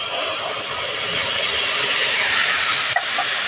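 Water splashes into a hot pan of lightly fried drumstick flowers, setting off a loud, continuous sizzling hiss that stays steady and close, with a small clink near the end.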